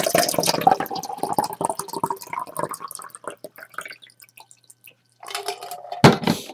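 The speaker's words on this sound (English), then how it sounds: "I'm going to illustrate this by adding cold water to this can." Cold water pours into a Coors beer can up close, a trickling, dripping fill that thins and fades out, then resumes briefly with a louder splash near the end.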